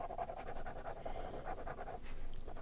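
A pen scratches steadily across paper, inking crunchy, textured tree bark on a spooky tree drawing, in dense repeated strokes with no talking.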